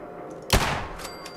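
A single sharp gunshot from the video game Fallout 4 during a fight with raiders, one loud abrupt burst that fades quickly, with no talk over it.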